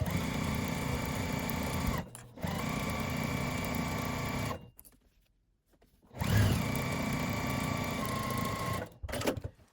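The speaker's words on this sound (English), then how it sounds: "I'm going to go ahead and just use my regular foot on my sewing machine" A sewing machine with a regular foot stitches through three layers of a quilted makeup bag in two long, steady, close runs, pauses briefly, then whirs through another sustained run.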